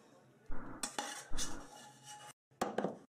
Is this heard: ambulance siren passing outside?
no